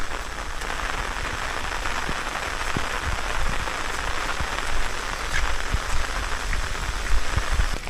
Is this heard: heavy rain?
yes